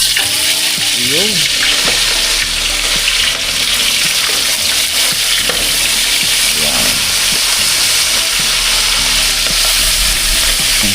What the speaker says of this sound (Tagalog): Prito na natin to. Mainit na yung mantika.